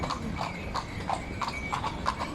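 Horse hooves clip-clop in a steady, even rhythm, about three beats a second, over a low background rumble, on a road in Morocco.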